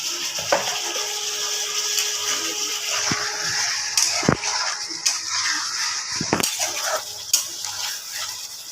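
Soybean kofta balls drop into a pot of boiling curry, giving several sharp clinks and plops of a spoon and pot against a steady bubbling, close up with no talking.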